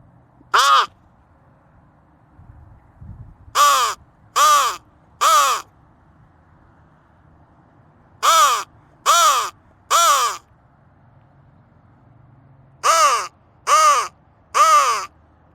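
Loud, harsh crow caws ring out clearly in quiet surroundings: one lone caw, then three evenly spaced groups of three caws, separated by long pauses.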